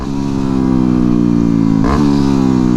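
A 2009 Yamaha WR250X fuel-injected 250cc motorcycle engine revs steadily and loudly up close, its pitch climbing slowly before a quick blip and drop near the end, with no talking.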